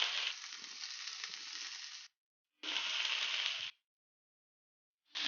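Chopped raw cabbage and carrot fry in a pan, making a bright, loud hiss that comes in three bursts with short silent gaps between them.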